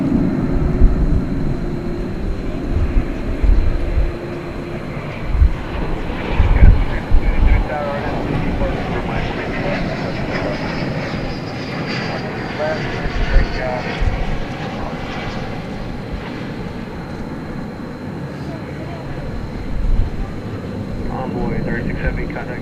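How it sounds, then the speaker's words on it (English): An American Airlines Airbus A321 arriving at DFW Airport at night, inbound from Las Vegas, makes a loud, sustained jet roar that rumbles and swells throughout, with talk over the engine noise. "2668 coming in from Las Vegas, American Airlines. They'll be an Airbus A321."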